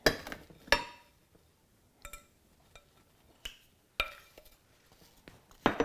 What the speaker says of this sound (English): And then add those apples right into the pan.